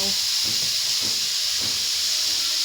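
Pork dropped into a hot pan with onions for sautéed pechay gives off a steady, loud sizzling hiss that fills the whole stretch, with a few faint knocks and scrapes underneath.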